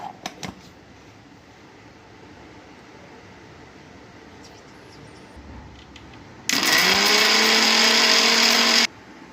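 A mixer grinder kicks in with a loud, steady whirring roar for a couple of seconds, then cuts off abruptly, after a few faint clicks and a quiet background; it is grinding cardamom pods.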